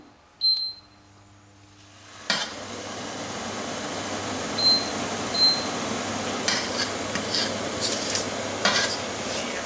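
A spoon stirs melting sugar and honey in a pot over a steam bath, scraping and clinking against the metal over a steady background hum, with a few sharper knocks.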